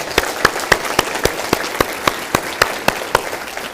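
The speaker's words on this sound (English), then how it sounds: "one more round of applause for our new chief of police" A slow, evenly spaced run of single loud claps, roughly four per second, close and distinct over a faint room hiss, as an audience at a State of the City event applauds a new chief of police.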